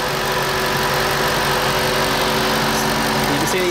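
A 2014 Shelby GT500's supercharged V8 idles steadily up close, a continuous throaty hum with a faint whine layered over it.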